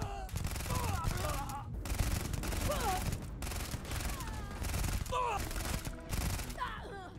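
Rapid gunfire in a Starfield-style sci-fi shooter game, dense bursts of shots running nearly continuously under music and game effects, loud and close.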